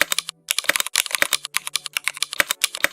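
Rapid, close typing on simulated Cherry MX Brown switches fitted with ABS keycaps, dense clacky keystrokes with a couple of tiny pauses and no talking.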